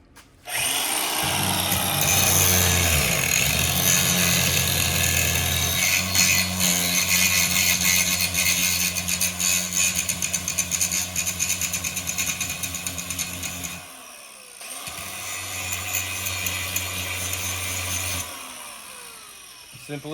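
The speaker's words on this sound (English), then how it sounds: "All right, guys, got the grinder." Unguarded angle grinder cutting off protruding screw ends on a wooden turkey fan and wing mount, a loud continuous whine that drops out briefly, then resumes before winding down.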